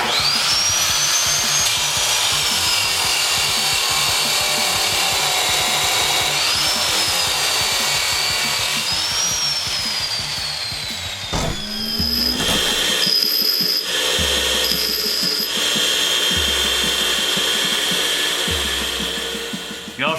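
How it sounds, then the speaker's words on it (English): A chop saw cuts metal while a Sears Custom 10XL tractor is being repaired, giving a loud, continuous high-pitched motor whine that shifts partway through, with brief changes in the grinding tone toward the end. "we're going to go over to our chop saw, and we're going to cut that off"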